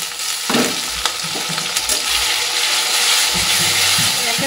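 Ground spice paste fries with browned onions in a pan, a steady sizzle broken by occasional scraping stirs and low thumps of the spoon, close and moderately loud.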